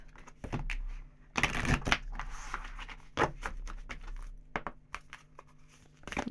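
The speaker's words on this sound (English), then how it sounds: "this deck is it's very awkward to try and shuffle, just with the size and shape on it" An awkwardly sized, oddly shaped deck of tarot cards being shuffled, giving bursts of crisp riffling and card slaps that come in uneven spurts, close and fairly quiet, with no talking.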